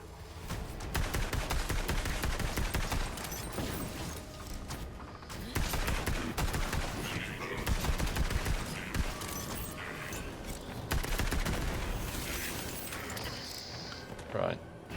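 Rapid gunfire and blasts fill a firefight in the video game Borderlands 3 as an enemy launches rockets, dense continuous shooting in waves with a few louder explosions, while a person talks over it.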